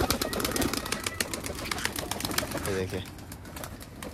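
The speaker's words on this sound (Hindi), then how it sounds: "आप चेक करिए कबूतरों को भी" Pigeons in a loft coo and flutter softly against a background of crackling noise, while someone briefly speaks nearby.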